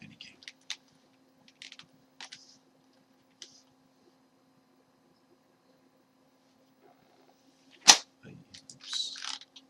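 Computer keyboard struck during an online card game session: scattered faint key clicks early on, then one sharp loud knock followed by a quick burst of rattling clatter, otherwise near silence.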